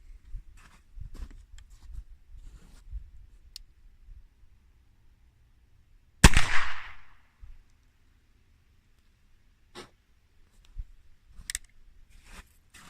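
A single loud gunshot from a black powder firearm at an outdoor range, a sharp crack with a brief decaying boom, set against low wind rumble and a few faint clicks before and after.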